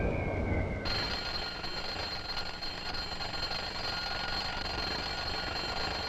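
An alarm clock starts ringing loudly after a brief moment, its steady continuous bell sustained without pause to the end.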